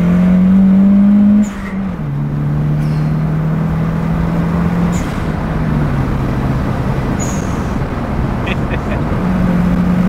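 A Nissan 200SX S13 with a CA18 engine and a short shifter gives a loud, close engine drone from inside the car. Its pitch drops as it shifts and then holds steady while cruising.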